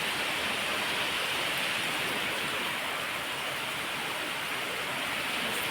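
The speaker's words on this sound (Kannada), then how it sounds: "ಮಸ್ತು ಮಳೆ" Heavy rain pours down steadily in Bangalore, a dense, unbroken hiss of downpour with no voices and no pauses throughout.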